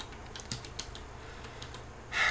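Fingers typing on a loud external computer keyboard set a little away from the mic: a quick, uneven run of light clicky keystrokes, fairly soft, ending in a brief louder rustle.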